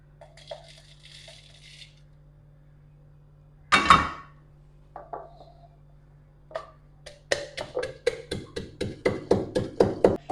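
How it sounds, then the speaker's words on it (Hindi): Roasted whole spices pounded by hand in a kitchen, starting with a few scattered knocks and clatters, then a steady run of sharp, close, rhythmic thuds for the last few seconds, with no talking. "अब मैं इसको थोड़ा सा हाथ से कूटूंगी।"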